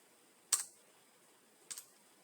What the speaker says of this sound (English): So we click on the Start menu and type Features.